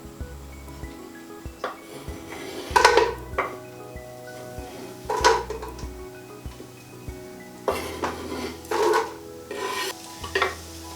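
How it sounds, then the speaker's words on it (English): Onion going into a pan of hot coconut oil for a sweet potato, chickpea and spinach curry, with scattered scrapes and stirring bursts over a low background sizzle, moderately close. "So I'm going to get the onion straight in there because, as I said, this one heats up pretty much straight away."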